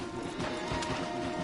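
Horse hooves clop on a forest path in Red Dead Redemption 2, a quick close run of several hoof strikes with a sharp knock partway through, over steady game ambience.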